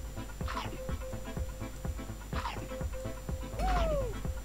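Short cartoonish barks and yips from the dog in the Super Dogo video game, about three bursts spaced a couple of seconds apart, the last with a rising whine, over a steady game-music bed.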